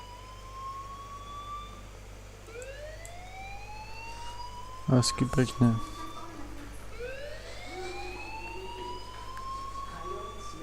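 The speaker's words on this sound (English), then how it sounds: "Hey, do you hear that fire alarm?" A fire alarm in the game Life is Strange: rising electronic wails sweep again and again across the whole stretch, steady and fairly loud, with a short burst of speech partway through.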